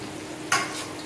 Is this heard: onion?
yes